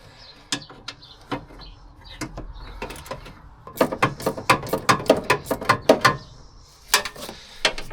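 Ratchet wrench loosening a stubborn screw, a run of sharp mechanical clicks that starts sparse and then speeds into a dense, loud burst of ratcheting ticks, up close with no talking.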